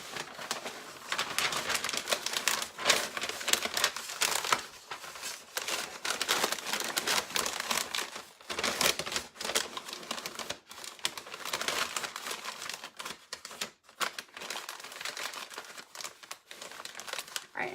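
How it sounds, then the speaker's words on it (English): White butcher paper crinkles and crumples steadily as an item is wrapped in it, a close, busy rustling with sharp crackles and brief pauses throughout. "And then I wrap it. This is just white butcher paper."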